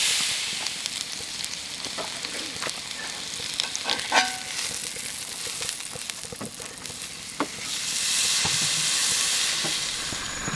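A roughly 20-ounce ribeye steak sizzling as it cooks on an outdoor trail trip in Colorado, a steady crackling hiss with scattered pops and clicks, growing fuller toward the end.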